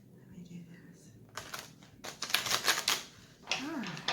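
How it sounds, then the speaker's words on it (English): Playing cards riffled and shuffled by hand during a tarot-style reading, a few quick papery bursts of flicking and snapping close by, separated by pauses, with faint talk at moments. "let me shuffle them like this just a minute"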